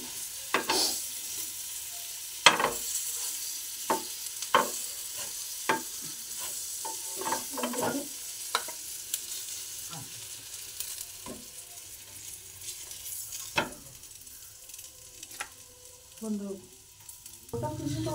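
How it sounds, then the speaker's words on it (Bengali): Noodles sizzle softly in butter in a pan while a utensil stirs and scrapes them in irregular clacks and taps, close and moderately loud, with no talking. "এর মধ্যে আমি বাটার দিয়ে দিচ্ছি একটু।"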